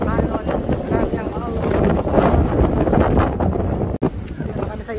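Strong seaside wind batters the microphone in loud, gusting rumbles for the whole clip, with a brief cut near the end and voices faintly underneath.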